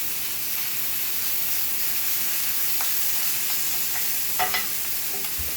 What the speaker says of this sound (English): I'm going to add my basil pesto, give that a little mush